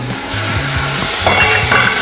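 Cognac poured into a sizzling cream sauce in a restaurant pan, a steady frying hiss that swells into brighter bursts of sizzle near the end, with no voices.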